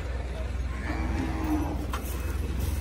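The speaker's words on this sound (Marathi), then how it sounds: "आता ही पण मोठ्या मापाची गाय आहे मित्रांनो" A Gir cross cow moos at a busy cattle market, one drawn-out low call rising over steady crowd chatter and background noise.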